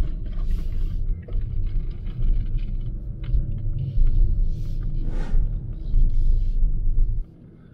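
Tesla Model Y pulling into the Des Moines, Iowa Supercharger station: steady low rumble of tires and road noise with soft cabin hum, a few faint knocks and a brief swell before the sound drops away near the end.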